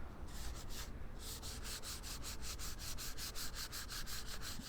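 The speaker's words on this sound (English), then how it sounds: "do some very light sanding" Rhythmic back-and-forth strokes of light sanding on guitar body wood, a quick steady scratchy swish repeated many times, close and alone.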